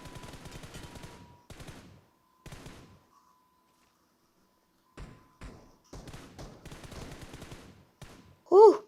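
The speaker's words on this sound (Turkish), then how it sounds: "Bana mı sıkıyorlar?" Bursts of rapid gunfire in the PUBG Mobile battle game, several short clusters of quick cracking shots separated by brief pauses, ending with one louder sharp burst.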